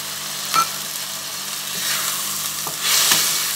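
Fried potatoes are stirred with spices and a splash of water in a pan for a Bengali shol fish curry, giving a loud, close, steady sizzle punctuated by a few spoon scrapes and a brief hissing surge near the end.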